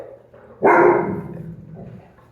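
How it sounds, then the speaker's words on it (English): A dog gives one sharp, close bark after a quiet start, and the bark trails off into a fading echo. "That's my dog."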